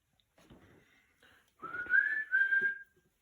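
A person whistles a short rising tune, soft at first and then louder with two sustained notes, close to the listener with no talking.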